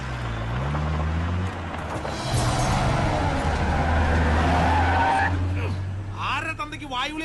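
A car pulls away with screeching, skidding tires, a loud engine roar building under the squeal as voices talk over it, then a short burst of tire noise near the end.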